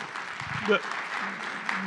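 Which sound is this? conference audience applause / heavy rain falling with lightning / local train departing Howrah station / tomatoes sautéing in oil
conference audience applause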